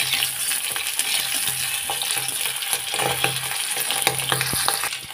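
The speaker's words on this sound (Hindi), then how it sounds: "मैंने लहसुन को इसलिए इसमें फ्राई कर रही हूँ" Garlic fries in a pan for an egg and potato curry, giving a steady loud sizzle with scattered clicks and scrapes of stirring.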